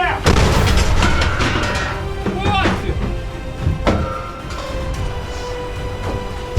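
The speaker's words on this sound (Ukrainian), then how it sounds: "Гармата! Постріл!" A single loud, close blast from a self-propelled artillery gun booms at the start and rumbles away slowly, followed by shouting voices and scattered clanks.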